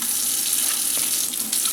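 Water sprays steadily from a clogged pullout hand sprayer on a kitchen faucet, a continuous close hiss with splashing into the sink and no talk.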